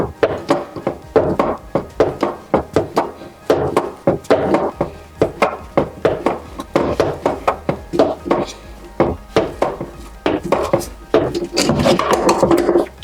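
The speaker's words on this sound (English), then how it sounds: "with your pliers you just tighten it down the rest of the way" Pliers tightening the nut on a toilet water supply line, a loud close run of rhythmic scraping, clicking and knocking strokes repeating quickly and evenly throughout, with no voice over it.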